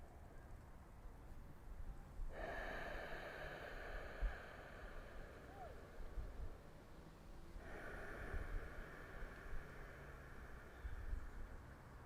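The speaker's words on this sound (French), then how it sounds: "Poursuivez à votre propre rythme d'inspire et d'expire." Slow, deliberate breaths during a guided relaxation session, long soft inhales and exhales drawn in and out at a calm pace, quiet and close with faint background hiss.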